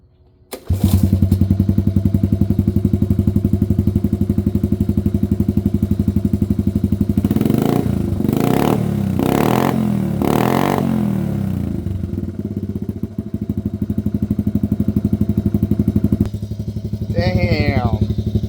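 A Honda ATC70 70cc three-wheeler with a new exhaust starts up and settles into a loud, close, buzzing idle, then revs in several sharp surges before dropping back to idle; a voice speaks briefly near the end.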